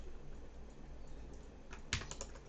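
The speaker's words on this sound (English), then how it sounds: "that's why I'm typing it out" Keystrokes on a computer keyboard while coding a WordPress page, a soft steady clatter of typing low in the background that sharpens into a brief louder burst of clicks near the end.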